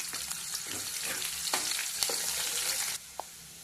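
Cut onion pieces fry in a hot oil tempering for dal, a dense continuous sizzle close by with occasional spoon scrapes and taps, easing off near the end.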